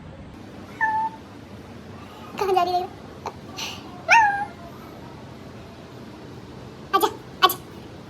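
A cat meows several times at a home on a rainy day, short mid-pitched cries scattered across the moment, with someone speaking briefly between them over a faint background hiss.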